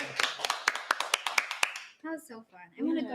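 Audience giving a round of applause, a burst of sharp, scattered claps lasting under two seconds before voices start talking close by.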